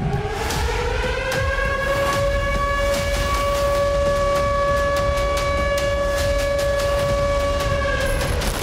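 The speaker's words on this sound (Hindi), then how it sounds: "धमाके के साथ ही इस्फहान में अलर्ट सायरन गूंजने लगे।" Several wailing air raid alert sirens in Isfahan, Iran sound together, steady and loud, with a low rumble beneath them.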